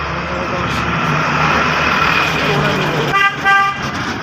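Car horn toots on a road on the way to a market, two short honks near the end over steady traffic and engine rumble, with talk going on.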